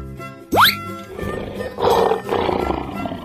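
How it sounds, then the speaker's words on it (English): A cartoon lion roars once, loud and close, with a rising sweep, followed by a rumbling growling tail that fades over the next few seconds. "Lion."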